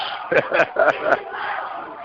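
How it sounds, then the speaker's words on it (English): Crowd noise inside a basketball arena during a SWAC men's college game between Grambling State and Alabama State, a steady murmur of spectators with a few louder shouts rising early, then settling into a continuous hum. "as I listen to the crowd. Oh, yeah, the crowd. You got a nice crowd in here."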